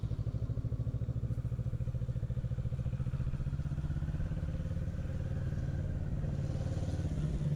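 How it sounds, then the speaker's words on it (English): Motorcycle engine droning steadily at close range with a pulsing low rumble while riding slow laps around a 40-foot circle in a knee-down practice drill, no talking. "it's difficult for me to get the speed just right on the motorcycle"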